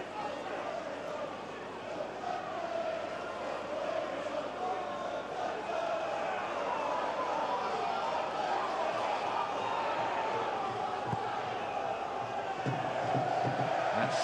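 Unhappy home football fans at Portsmouth's old-fashioned ground create a dense, sustained crowd roar of jeers and shouts, moderately loud and continuous throughout, with a commentator's voice over it.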